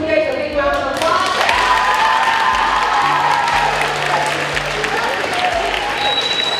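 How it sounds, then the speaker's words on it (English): A big round of applause from a gathered crowd honoring a retiring colleague, sustained clapping with some cheering, overlapping faint voices and a soft tone in the background, steady and fairly loud throughout. "a big round of applause"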